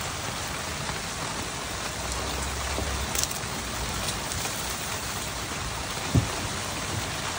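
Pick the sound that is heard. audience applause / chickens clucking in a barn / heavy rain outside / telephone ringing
heavy rain outside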